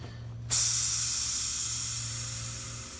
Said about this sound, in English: when I unscrew this, you'll hear gas release